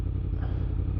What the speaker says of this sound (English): your bike is so loud, bro